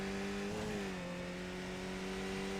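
Engine drone of a race car accelerating in iRacing on the Tsukuba circuit, from a Mazda MX-5, Skip Barber or Spec Racer, a steady tonal hum that dips slightly then holds on throttle, loud and continuous.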